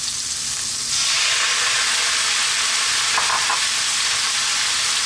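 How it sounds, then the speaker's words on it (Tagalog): Tomatoes frying with sardines in a hot pan for a Filipino sardinas at kangkong dish, a steady loud sizzle that swells after the first second, with faint stirring clinks and no talking. "ilalagay ko na rin yung ating kamatis para sabay siyang maluto"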